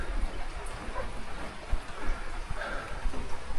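Steady rain falls outdoors at a flower harvest of chrysanthemums, a dense continuous hiss with scattered drops tapping nearby, fairly loud and with no other sounds over it.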